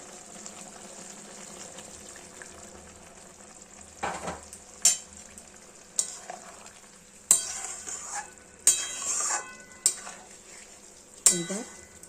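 Water goes into a sizzling Bengali ridge gourd, potato and poppy seed curry in a pan: a low ongoing sizzle broken by several sharp utensil clatters and brief splashy pours, close and unvoiced.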